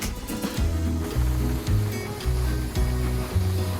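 Water pours onto a microgreens growing tray, giving a loud, steady close-up splash and gush that surges and eases in a repeating rhythm, with no one talking.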